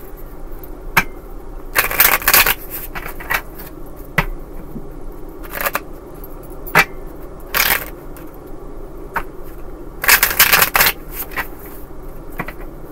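Bursts of tarot cards being shuffled, riffled and tapped close up, in several separate rounds with quiet pauses between.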